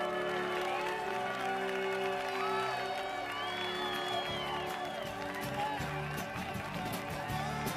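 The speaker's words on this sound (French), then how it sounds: "Merci d'applaudir bien fort le dossard numéro 35 et sa monture belle de jour." Crowd applause for a rider and horse, number 35 Belle de Jour, at an equestrian show, rising as a steady, dense wash of clapping and cheering over music and voices for the whole stretch.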